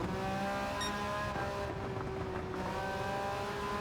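A Porsche 911 GT1 Strassenversion '97 turbo engine in Gran Turismo 7 hums and revs at moderate distance, with a steady engine tone shifting pitch as the turbo spools, with no voices.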